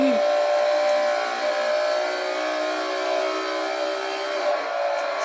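Engine of a car in a video game rising steadily as it accelerates, a loud continuous whining drone held throughout.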